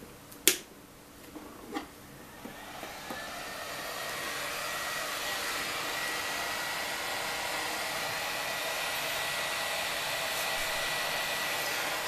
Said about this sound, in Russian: посмотрим на фен.